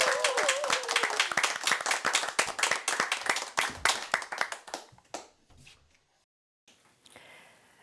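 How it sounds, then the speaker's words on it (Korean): Seniors at a Catholic academy program in Seoul clap after a sung hymn, a lively rhythmic burst of hand claps that thins out and fades to near silence, with a brief faint tone at the start. "박수!"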